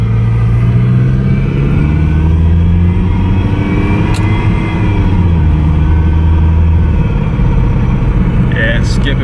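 The engine of a Toyota MR2 runs loud and close while driving, a continuous rough drone that shifts pitch with speed and stumbles unevenly from a misfire. Talk can be heard faintly over it.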